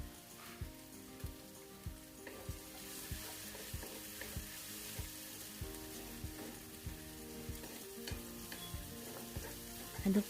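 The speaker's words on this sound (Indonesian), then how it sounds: "Aduk terus ya teman-teman sampai wangi" Meatballs and sliced chilies are stir-fried in a pan for green chili fried rice, with a faint, steady sizzle broken by regular spatula scrapes about every half second.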